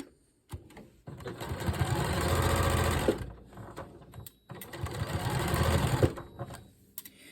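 A sewing machine stitches a beginner's nine-patch quilt block in two steady motor runs, each about two seconds long, with a short pause between them. The machine sounds close and clear.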